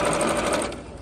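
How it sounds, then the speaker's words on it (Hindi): A Jaguar CD-2204W home sewing machine stitches at speed, a close, loud and continuous mechanical whir that eases slightly toward the end. "अभी आपको सिलाई करूँगा फर्स्ट टाइम"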